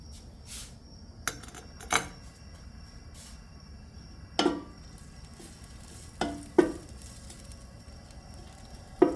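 Hot pepper and sliced garlic hitting a hot frying pan, with a soft steady sizzle under several sharp stirring clacks and scrapes of a utensil spaced through the clip, close and moderate in level, no talking.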